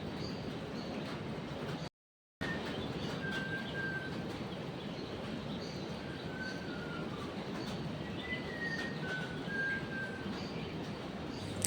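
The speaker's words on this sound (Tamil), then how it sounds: "இதாங்க குயில் பாடுறது." Soft, rising Asian koel whistles repeat several times at a distance over a steady background hiss, with a short silent gap early on, at a resort in Munnar.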